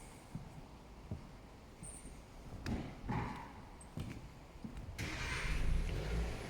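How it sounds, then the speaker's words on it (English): A car engine cranks and catches during a pre-delivery inspection in a workshop, rising into a rougher, louder rumble toward the end after some quieter clunks and shuffling. "Turn the engine on."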